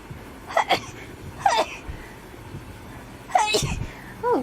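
A girl sneezes rapidly, four sharp, close, loud sneezes in quick uneven bursts with short gaps between them.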